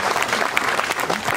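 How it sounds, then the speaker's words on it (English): An audience at a school assembly, welcoming a visiting archbishop to a girls' secondary school, claps in a brief, dense burst of applause. "Can we clap for him?"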